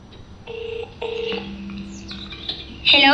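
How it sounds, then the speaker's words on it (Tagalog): Cellphone in an office rings with a repeating electronic chirping tone in bursts, loud and close, with a sharp burst at the end and no speech over it. "Agring ti cellphone na."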